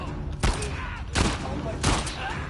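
Gunfire in the video game The Last of Us Part 2, three loud sharp shots spaced about a second apart over a busy game background.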